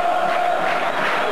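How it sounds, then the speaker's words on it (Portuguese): Santos supporters roaring in a packed stadium at the 1995 Brazilian Championship final against Botafogo, a loud, continuous crowd chant that fills the space without letup. "Torcida do Santos grita."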